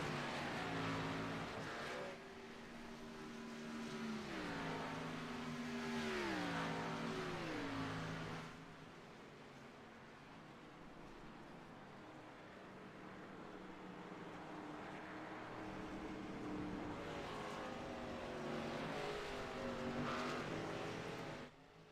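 Race cars from a Road Atlanta racing video game circle through lap traffic. Engines rise and fall through gear shifts in repeated pitch sweeps, several cars passing one after another at moderate loudness over a continuous motor drone.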